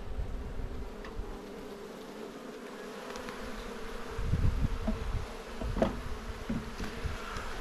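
Honeybees buzz around a hive being moved into a new box during a small hive beetle infestation, a close, steady drone with louder passes as individual bees fly near.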